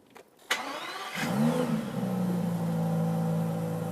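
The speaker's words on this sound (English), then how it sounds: "So this is maybe my favorite thing about not just the DBS, but all Aston Martins. Take a listen." After a click, an Aston Martin DBS engine cranks and fires up, flaring briefly before settling into a deep, steady idle, close and loud.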